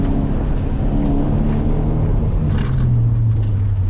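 A car accelerates hard through the cones at an SCCA autocross school in Washington DC. The engine roars loud and close, its steady rumble climbing in pitch under continuous throttle, with no voices.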